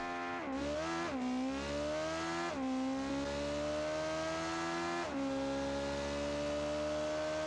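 A race engine in BeamNG screams at max revs, loud and steady, with a few quick dips and climbs in pitch as it bounces off the limiter, no talking over it.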